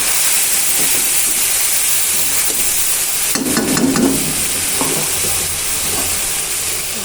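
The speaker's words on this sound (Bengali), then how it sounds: "সিদ্ধ জলটা ফালাই দিচ্ছি" Water from boiled cabbage is poured off, heard as a loud, close, continuous hissing rush, with a burst of splashing and clatter in the middle before it settles back to a steady hiss. No one speaks.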